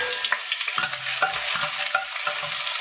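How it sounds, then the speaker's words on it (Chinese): Minced garlic fries in hot oil in a pan with a constant bright sizzle, broken by soft scrapes and knocks of stirring, close and without talk. "锅里边倒入油，放入切好的蒜末"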